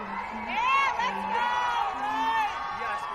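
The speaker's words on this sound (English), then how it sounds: "You can hear the crowd going absolutely wild." A live crowd at the 2025 Ice Climbing World Cup lead final in Longmont, USA, roars with whoops and cheers as a climber nears the top. There are sustained shouting and rising yells throughout, with commentary voices mixed in.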